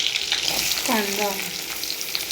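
Onion frying in a pan until reddish: a steady close sizzle and crackle, with a short tonal squeal partway through.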